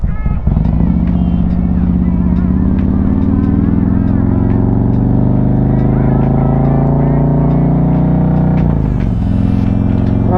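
A Harley-Davidson motorcycle fitted with an HPI throttle body and intake manifold runs at low RPM, its loud, close, steady rumble lasting throughout with a slight dip near the end.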